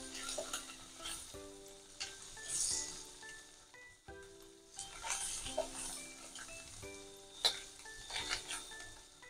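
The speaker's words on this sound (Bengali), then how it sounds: "একসঙ্গে ভেজে নিচ্ছি।" An egg frying in a pan with onion, green chili and garlic, a soft, continuous sizzle with repeated bursts of stirring and scraping.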